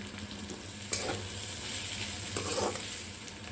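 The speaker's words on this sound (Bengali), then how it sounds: "রসুন বাটা দিয়ে দিলাম আর আদা বাটা দিলাম পেঁয়াজটা দিয়ে দিচ্ছি" Onion frying in a pan with garlic and ginger paste makes a steady, close hiss, with a few stirring scrapes breaking through the sizzle.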